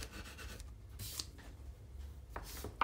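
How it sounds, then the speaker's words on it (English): A bone folder rubs over paper and the corner of a craft label, giving soft dry scratchy strokes in short bursts with brief pauses between them, close up and fairly quiet. "Again, I'll just give it a rub with the bone folder."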